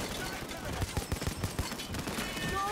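Arbiter grenade launcher firing in Payday 2, a quick series of punchy thumps in a rhythmic burst over busy game background noise.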